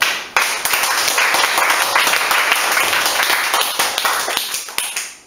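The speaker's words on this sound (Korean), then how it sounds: "자, 우리 박수 한번 이렇게 세게 쳐봐요." A church congregation claps loudly in unison during a sermon on Genesis, producing a fast, dense run of sharp hand claps close by that fills the whole stretch before thinning slightly toward the end.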